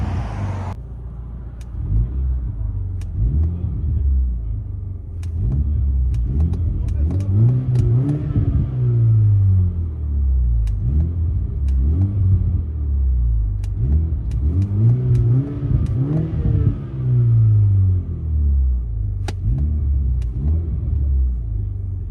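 2016 Mini John Cooper Works 2.0L turbo with muffler delete, heard from inside the cabin: a low droning engine rumble that swells through repeated revs and settles back, steady and close.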